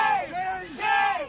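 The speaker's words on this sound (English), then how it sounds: "they're screaming loudly in his face, shame, shame," A crowd of students mobs a fellow student and chants loudly in his face, two sustained rising shouts of massed voices, close and insistent.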